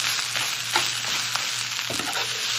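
Garlic fried rice with Spam sizzling steadily in a pan while being stirred, a continuous bright fry hiss broken by soft scrapes and shuffles of the utensil, close and alone.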